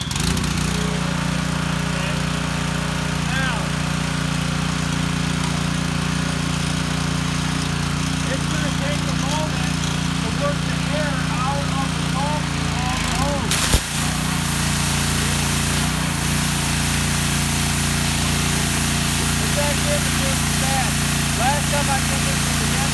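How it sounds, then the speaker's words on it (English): Petrol-engined pressure washer running steadily up close, a loud continuous engine drone with a constant low rumble and a brief knock partway through. "As soon as the machine starts, we can turn the choke off."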